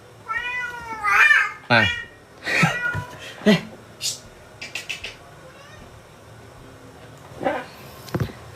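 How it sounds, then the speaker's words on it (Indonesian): A house cat in heat meows and yowls several times in close, drawn-out calls, with a brief spoken word and quieter pauses between the cries. "tuh kucing saya ngeong"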